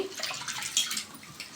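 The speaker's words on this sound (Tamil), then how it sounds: "தண்ணி ஊற்றி" Water runs and splashes steadily for a moment, a close, bright trickling as pigeon pea lentils are rinsed in a bowl.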